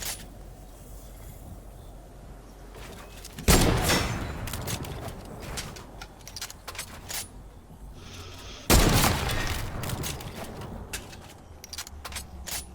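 Sniper and gunfire in a heavy sniper shooter video game: two loud, sharp shots several seconds apart, each trailing into rattling echoes, with lighter crackling gunfire between them.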